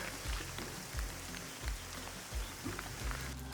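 Rain falling in a tea-growing area among rock formations, a steady patter with periodic low thuds of drops hitting a surface nearby.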